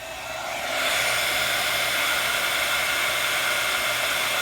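Heat tool switching on and blowing hot air over a rubber-stamped honey bee card, rising within the first second into a steady loud whooshing hiss that holds without talk.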